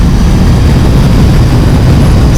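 A KTM SMT 890 motorcycle engine cruising on a highway, a steady loud low rumble with rushing wind noise, continuous and close, with no talk.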